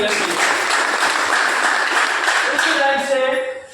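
Audience at an AWPL business-plan seminar claps loudly for a woman presenter, a dense, steady wash of applause that holds for about three seconds before tapering, with voices mixed in.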